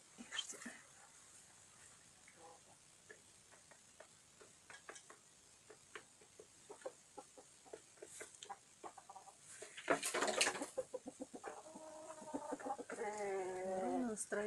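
Young roosters and hens clucking in a backyard poultry yard, scattered short clucks and calls under occasional nearby talk, with a louder burst of flapping and squawks midway and a crowing-like call near the end.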